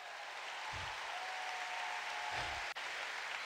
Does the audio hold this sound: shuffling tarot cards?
no